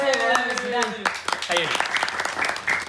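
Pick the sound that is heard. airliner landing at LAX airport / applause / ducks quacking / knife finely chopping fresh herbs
applause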